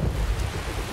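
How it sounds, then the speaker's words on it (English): Rain and thunder in the video game Skyrim, a dense, steady rush of rainfall with a deep rumble underneath, continuous and fairly loud with no talk. "It's raining, but not a problem."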